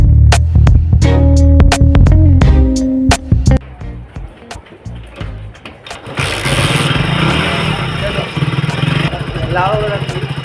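A motorbike engine idles and revs close by in a residential setting, a steady broadband rumble with brief rises, while people talk over it.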